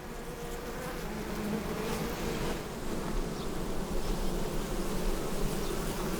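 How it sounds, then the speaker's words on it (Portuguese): Young bees confined in a pollination net enclosure buzz in a dense, continuous drone that stays steady and fairly loud throughout, with no voices. "São abelhas jovens tentando fazer o teste de voo."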